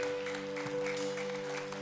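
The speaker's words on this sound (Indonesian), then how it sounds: "Kita berikan tepuk tangan buat Tuhan kita" A church congregation claps for God during a service, a short spell of moderate applause sitting over a steady sustained musical hum, with no speech.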